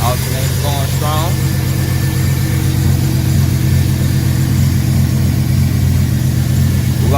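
A Chevrolet Silverado's engine idles steadily and loud after an alternator swap, a constant low rumble with a faint whine on top, close by, with brief voices early on.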